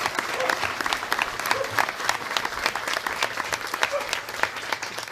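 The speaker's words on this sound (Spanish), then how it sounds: "Un aplauso para Jesús," A church congregation applauds during an Easter service, dense steady clapping from many hands filling the room for several seconds at fairly strong volume.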